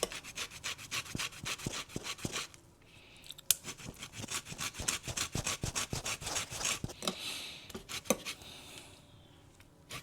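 Lemon rind rubbed against a grater for a no-bake coconut bar recipe, a fast, steady run of close, rasping scrapes that pauses briefly, then resumes in quick strokes.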